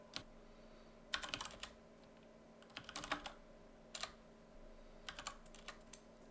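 Quiet, scattered clicks of typing on a computer keyboard, irregular bursts of keystrokes over a faint steady hum.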